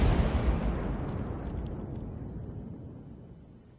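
Artillery firing in World of Tanks from an M12 self-propelled gun: one heavy boom that opens loud and rolls off slowly over several seconds, alone with no voices.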